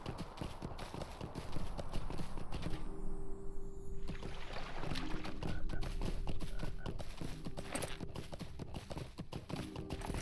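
Horse hooves clip-clop steadily in the Lord of the Rings Online game as a mount travels down toward a township, a continuous rhythmic trot over soft music and ambient tones.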